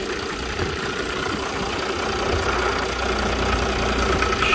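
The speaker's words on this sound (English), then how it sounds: "Look at that big old diesel V6." The 2011 Mercedes-Benz E350 BlueTec diesel V6 runs at a steady idle, a close, continuous engine drone with a rough, knocking texture and a slight swell toward the end.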